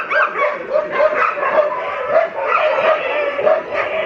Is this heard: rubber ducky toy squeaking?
no